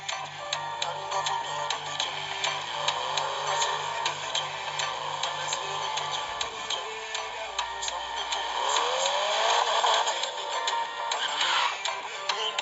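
A car drives in a racing video game played on an Android phone with a Razer Kishi controller, giving a continuous engine drone with rising and falling pitch, steady and fairly loud, along with faint ticking and no voices.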